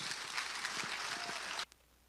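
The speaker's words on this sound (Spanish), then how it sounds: "dele un aplauso a Cristo Jesús" A church congregation gives a burst of applause during a Spanish-language sermon, a fairly faint, even roar of clapping that cuts off abruptly, leaving near silence.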